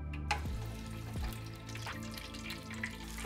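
Dumplings fry in hot oil in a pan or deep fryer, giving a continuous crackling sizzle with a few bumps and clinks, no voices.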